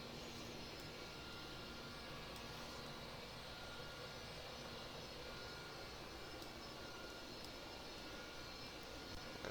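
A CLS DC-10 airliner rolls down the runway for takeoff in a flight simulator, its jet engines a steady, broad roar held at even volume with no talking.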